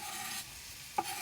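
Finely chopped onions fry in a pan for a Moroccan chicken tagine, giving a steady soft sizzle with one brief utensil tap near the end.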